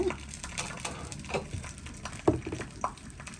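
Soft, irregular crunching taps as turkey berries are lightly pounded, a quick scattered series of muffled knocks with one sharper hit midway.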